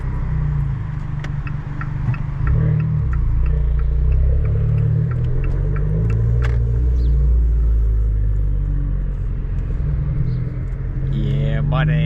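An Abarth's engine rumbles steadily at close range while driving through a city, a deep continuous drone with slight swells and a voice talking over it.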